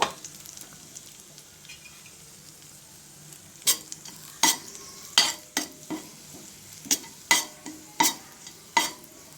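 Powder is roasted and stirred in a pan after raisins, with a low, soft sizzle throughout. From mid-clip, sharp scraping strokes of the spoon against the pan land close and loud in an irregular rhythm, with no talking.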